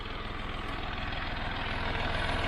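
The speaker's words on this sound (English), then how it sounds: "The John Deere 5055D and the old Hardy Bush Hog." A John Deere 5055D tractor engine runs with an old Hardy Bush Hog mower attached, giving a steady, loud, continuous low rumble with a fast pulsing throb.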